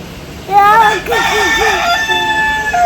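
A person imitates a rooster's crow with a rising, wavering cock-a-doodle-doo call, loud and close, followed by a drawn-out tail.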